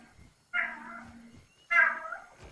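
Two clear domestic cat meows, each a drawn-out, fairly close cry, separated by a short pause, with a little faint background noise and no talking.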